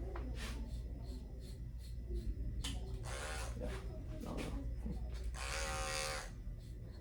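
An electric hair clipper with its blade closed all the way runs steadily throughout a beginner fade haircut, a continuous buzzing hum with soft brushing passes through hair rising and falling over it.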